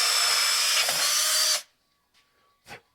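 A power drill bores a hole with a sharper drill bit, whining loudly and steadily for about a second and a half before cutting off. Afterward come a couple of faint knocks and a short scrape, with no speech.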